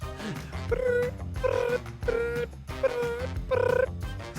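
A person voices a repeated high, buzzing warble in several short bursts, imitating a cicada though it comes out more bird-like.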